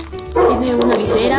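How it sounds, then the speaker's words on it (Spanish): Several dogs bark in short, sharp yips indoors at a home, repeating throughout while a person talks over them. "perdón por los perros que están ladrando"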